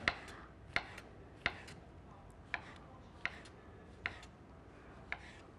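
A knife chops mushrooms into small pieces on a board, giving seven crisp, evenly spaced chops close by in a quiet room.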